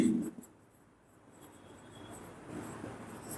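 A pen writes an accounting entry on paper, with brief, close scratching strokes at the start and again toward the end, separated by a quiet gap.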